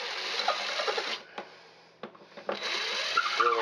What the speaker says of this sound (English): drilling this in